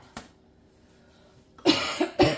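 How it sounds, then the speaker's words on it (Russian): A woman with a cold coughs: one short cough, then after a pause a louder burst of two or three close coughs, heard in a home kitchen while making Easter curd paskha. "Что сегодня покашливаю, простыла."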